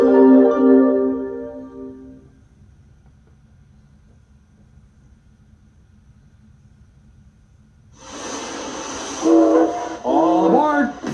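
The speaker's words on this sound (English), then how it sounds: "All aboard the Strasburg Railroad." A steam train on Pennsylvania's Strasburg Railroad opens with a loud, sustained whistle lasting about two seconds. Several seconds of near silence follow, then hissing rail noise and further tonal sounds rise near the end.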